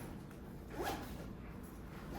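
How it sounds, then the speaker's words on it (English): A single quick zip, soft and close, as a packed bag is zipped up, over a steady low background hum. "Zip that up."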